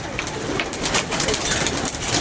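Pigeons cooing close by, soft rolling coos repeating over steady broadband rustle and background noise, with no clear speech.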